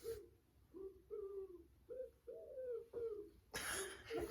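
A pigeon coos in a run of soft, low, repeated notes, roughly seven in an uneven rhythm, heard close and clear during a sound-guessing game. A brief hiss of noise cuts in near the end.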